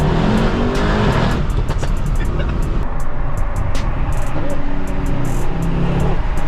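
A Mercedes-AMG E63 S V8 engine roars loudly and continuously, its revs rising and falling with a deep rumble, and a voice faintly underneath.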